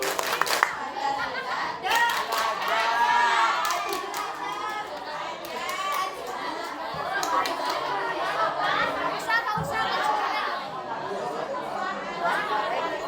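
A group of students at a school project event clap in rhythm along with a chanted clapping routine, steady claps running the whole time under lively chatter and young voices.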